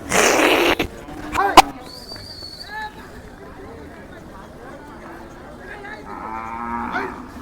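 Several Khillar bulls moo at moderate distance amid a busy cattle market crowd in Sangola, with people talking and a few sharp knocks near the start.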